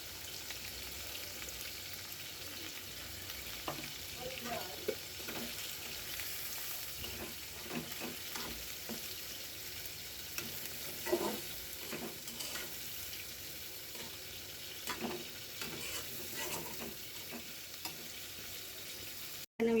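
Garlic, onion and green chili frying in a pan give a steady, close sizzle with occasional stirring scrapes, running without pause and with no voices.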